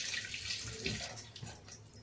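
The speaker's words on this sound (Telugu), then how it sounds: "ఇంకా నీళ్ళు కలపాలి" Water trickles and splashes into dosa batter made with boiled rice, a soft, continuous pouring sound, close but quiet.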